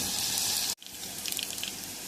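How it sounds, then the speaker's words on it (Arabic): Onions frying in ghee in a pan, a bright crackling sizzle that cuts off abruptly, then returns softer with scattered small pops. "هنحمر البصل كده وهنرجع تاني"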